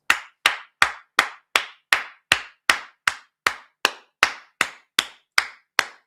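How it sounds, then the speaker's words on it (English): One person claps sharply and steadily, about sixteen crisp, evenly spaced claps, loud and close, with silence between each. "Let me just give him a round of applause."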